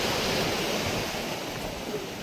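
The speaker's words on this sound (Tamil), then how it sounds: "இங்கே பாருங்க, அலை வந்து அதிகமாக இருக்குது." Rough sea waves surge onto a fishing shore, a loud, broad, continuous wash of surf with wind, close and unbroken.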